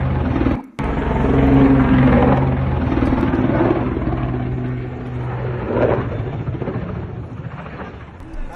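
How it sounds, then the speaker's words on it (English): A passenger plane falling out of the sky during a crash in Brazil, heard as a loud continuous roaring drone with low engine hum, a brief cut near the start, then slowly fading; a voice talks faintly underneath. "here is the flight dropping out of the sky"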